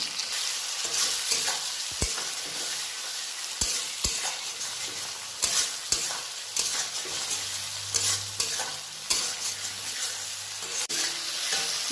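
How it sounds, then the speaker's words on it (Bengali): Spice paste with chopped tomatoes sizzles steadily in a pan for a Bengali fish curry, with a steady fry hiss broken by sharp stirring clacks of a spoon against the pan. "এবার আমি এর মধ্যে এই টমেটো কুচিগুলো দিয়ে দেবো, দিয়ে আরও 2 থেকে 3 মিনিট কষাবো"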